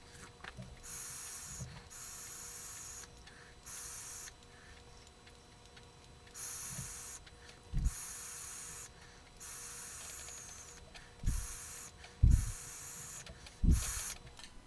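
A YiHi SX mini M Class temperature-controlled vape mod hissing as vapor is drawn through the tank, in a series of separate airy hisses of a second or two each, close and fairly soft, with small clicks and thumps between and no speech.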